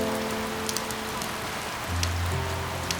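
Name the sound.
heavy rain falling at a campsite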